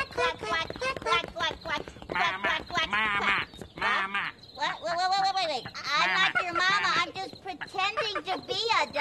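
Voices imitate a duck, sounding out a rapid run of quacks in a pitched, sing-song way, loud and close, with speech around them.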